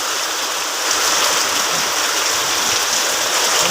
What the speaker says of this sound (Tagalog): Ayan, lakas na lalo ng ulan guys.